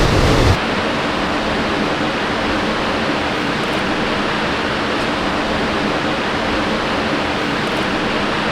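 Steady, dense roar of rushing water, like a waterfall, continuous and loud without pauses or voices.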